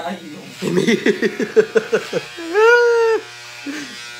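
Electric hair clippers with a number 2 guard buzz steadily while cutting hair at home, a nasal hum rising clearly for a moment among lively, laughing conversation close to the mic.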